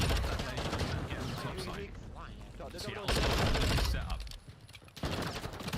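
Dense, rattling automatic gunfire from a Call of Duty esports match, loud and continuous with brief lulls, layered under an excited commentator's voice.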